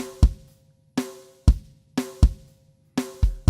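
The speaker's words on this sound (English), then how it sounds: "What you're hearing is the snare bleed." Drum hits come through the kick drum's parallel compression track in a studio mix, with snare bleed in them. About eight punchy, booming strikes with short ringing tails fall in an uneven groove, alone and up close.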